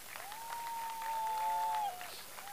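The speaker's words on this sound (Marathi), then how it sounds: "तर एकदा आयोजकांसाठी जोरदार टाळ्या गाईस." Applause for the organisers at a cricket premier league prize ceremony. Soft, scattered crowd clapping sounds from a distance while a sustained whistle-like tone rises and glides over it for about a second and a half.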